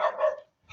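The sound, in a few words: dog barking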